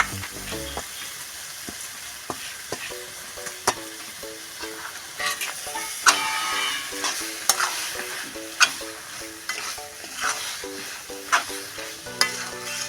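Gab (persimmon) leaves being stirred with spice paste in a pan on a clay stove, with steady scraping and stirring strokes over a soft sizzle. No one speaks.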